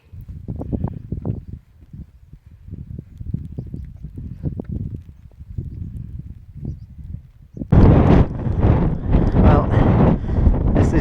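Strong wind buffets on a mountain summit plateau in the Lake District fells, first in gusty rumbling bursts, then a sudden louder, sustained roar.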